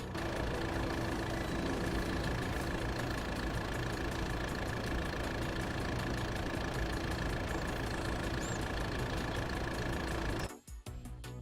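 A tractor engine idles steadily in Farming Simulator 22 on a cold morning, a constant low drone with a faint whine held evenly for about ten seconds before cutting out at the end.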